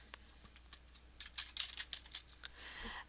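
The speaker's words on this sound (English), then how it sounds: "So I'm just going to type in the same title that I used for the class." Typing on a computer keyboard: a quick, irregular patter of close key clicks, faint and alone, picking up toward the end.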